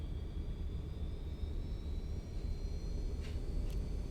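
MD-80 jet engines spooling up toward takeoff power as the airliner sits lined up on the runway, a steady loud roar and rumble heard from the cabin, with a faint rising whine.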